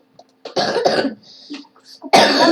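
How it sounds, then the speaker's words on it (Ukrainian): Several harsh, close coughs in quick succession, with short pauses between them and a final loud cough at the end. "Будь ласка, вибачте за мій кашель теж"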